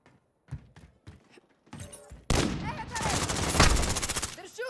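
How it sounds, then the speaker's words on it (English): Gunfire in the video game Call of Duty: Modern Warfare: a few sparse early shots, then loud sustained bursts of automatic fire and heavy impacts, with game voices shouting over the din. "They're shooting!"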